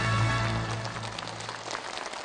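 Audience applause welcoming the hosts at the first Dangun literature awards evening for ethnic Korean Chinese: dense, steady crowd clapping with a low sustained musical tone beneath, fading slightly toward the end.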